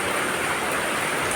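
Heavy rain falls in Mangaluru in a continuous broad rushing hiss, near and even, steady from start to finish with no talk over it.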